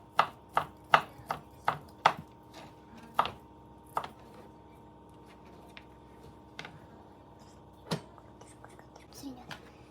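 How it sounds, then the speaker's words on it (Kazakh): Cucumber chopped with a knife on a board for a homemade pizza, a run of evenly spaced crisp chops that slows into sparse, scattered cuts, close, with soft whispering in the background. "Енді огурцымызды тураймыз"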